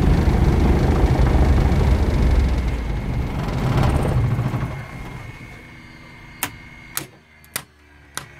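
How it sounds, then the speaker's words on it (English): A Britten Norman Islander piston aircraft engine runs loud and steady, then winds down and cuts out around the midpoint, leaving a quiet tail broken by four sharp clicks or knocks. "And I'm gonna turn the engine off."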